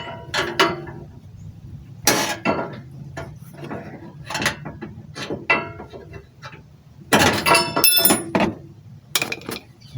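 A plastic splash guard on a 2013 Ford F150 XL is shoved back into place, producing a close run of creaks, clacks and rattling knocks in uneven bursts, loudest near the end, with no talk.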